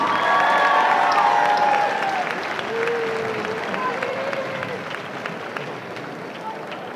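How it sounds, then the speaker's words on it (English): A school assembly crowd applauds eighth graders with steady, full clapping mixed with cheers and voices, slowly tapering off over several seconds. "Let's give them a round of applause."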